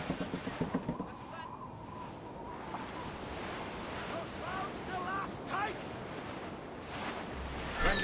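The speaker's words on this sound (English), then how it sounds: "It's quite a rough squall, Cap." Ocean waves and a rough squall at sea in the game Assassin's Creed Rogue, with steady surf and wind noise near Port Lejoie, plus occasional creaks and faint voices under the wash.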